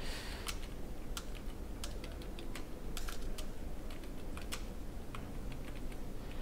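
Steady typing on a computer keyboard while writing slide text in PowerPoint, with quick key clicks in an uneven rhythm and occasional louder taps, close and alone with no talk.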